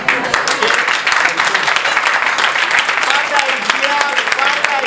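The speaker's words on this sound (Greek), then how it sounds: "Ένα θερμό χειροκρότημα για τα παιδιά." Warm applause for the children fills a school carnival dance held by a parents' association, a dense, steady clapping from a crowd that continues throughout at close range.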